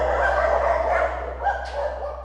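Dog at a cemetery shelter, still adjusting to a new home, giving a short growly bark over a steady low hum.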